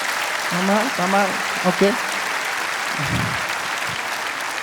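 An audience claps steadily throughout, and a voice speaks briefly over the applause near the start.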